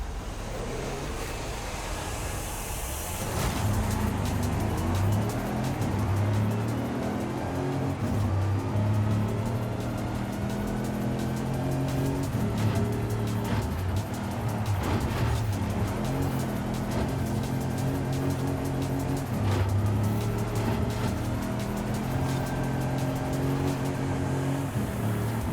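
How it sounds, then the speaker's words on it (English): A Land Rover SVR dirt-races in Forza Horizon 5, its engine droning and revving steadily for the whole stretch, loud and close, with pitch rising and falling through gear changes and tire noise beneath. "we'll finish this up with a Land Rover SVR. And to do a little bit more dirt racing here too."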